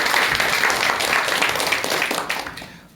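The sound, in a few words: audience applause before lecture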